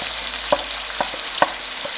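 Chicken pieces fry in a karahi with a steady sizzle, broken by a few sharp scrapes and taps of a stirring spoon.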